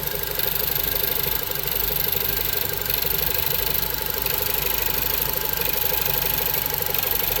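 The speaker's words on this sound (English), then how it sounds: "I did just start it up after it's been a minute, so it might be trying to find its idle" A VW 1.8T car engine, fitted with a new high-pressure fuel pump and cam roller, idles steadily just after startup with a low, slightly uneven rumble and faint knocking, heard up close with no one talking.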